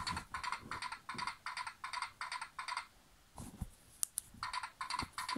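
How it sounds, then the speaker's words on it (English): Quiet electronic clip-clop galloping from a Toy Story 4 Rex toy dinosaur plays in quick, even bursts of rhythmic clicks, pauses briefly with a few clunks, then resumes, small and close. "he has galloping sounds"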